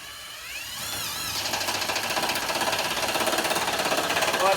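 Stealth Force Gen5x driving a 3-inch lag screw into wood with no pilot hole: a loud, close, rapid rattling hammer that builds over a few seconds and holds a steady pulsing rhythm under strain, no talking.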